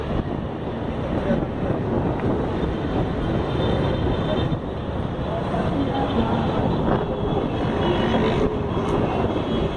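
Throngs of motorcycles at Latin America's biggest motorcycle meetup, in Brasília, keep up a steady heavy engine rumble near the microphone, with wind noise, and a voice talks over it.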